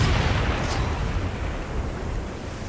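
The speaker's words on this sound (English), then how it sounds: "now let's test the remote bomb on a group of zombies" A remote bomb explodes among a group of zombies in Resident Evil 6, a loud, dense rumbling roar that holds steady across the moment and fades only slightly at the end, with no talking.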